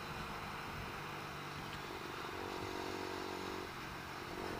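A Lexmoto LXR 125cc motorcycle being ridden, a steady small-engine drone mixed with heavy wind rush, fairly faint and continuous with no voices.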